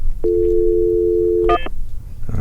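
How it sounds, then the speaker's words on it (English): A telephone is dialed during a real estate podcast. A loud, steady dual tone holds for over a second, then a short burst of stacked higher tones follows, alone with no talking. "We need a little music here while we're dialing for dollars."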